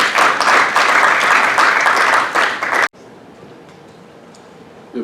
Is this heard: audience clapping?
yes